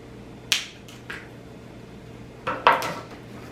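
A knife cuts chicken breast into thin pieces on a board, giving a few sharp, separate clacks and taps spaced irregularly over a quiet background.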